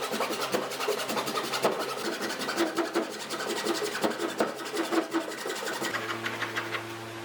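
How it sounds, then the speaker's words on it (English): A hand rasp scrapes over a walnut wooden guitar stand in quick repeated strokes, close and rough, with a steady hum starting near the end. "It did need just a little bit of rasp work to clean up that little transition area."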